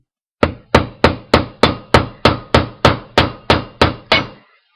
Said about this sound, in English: hammer that wire flat.